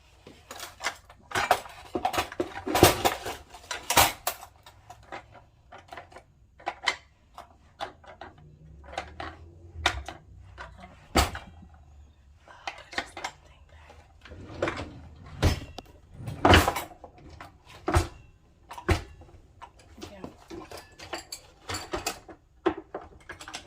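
Gold silverware and knives clatter and clink as they are dropped back into a kitchen drawer, with repeated sharp metallic bursts and drawer knocks spread irregularly over a fairly close, busy stretch.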